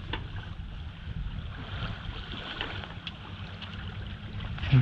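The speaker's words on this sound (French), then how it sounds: "Un bruit de moteur." A boat's motor runs steadily during solo sailing, a continuous low rumble with water and wind noise around it, alone with no voices.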